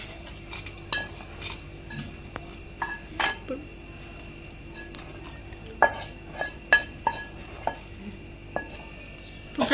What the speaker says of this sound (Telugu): ఫ్రై చేసిన మిక్సీ జార్లో వేసేసాం కదా,